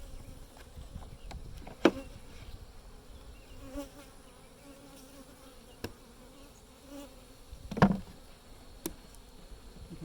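Honey bees buzz around an opened hive in Pilot Point, Texas, a soft continuous hum with individual bees droning close past the microphone now and then, plus a few sharp knocks.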